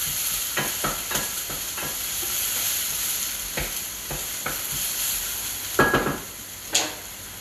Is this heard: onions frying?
yes